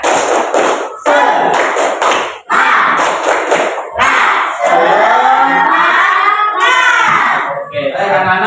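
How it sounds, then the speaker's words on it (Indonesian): Schoolchildren in a classroom perform the 'tepuk semangat' clapping chant, loud, near and in unison, mixing sharp rhythmic claps with shouted chanting voices in a quick patterned beat. "Yang nambah semangat coba kita tepuk tangan dulu."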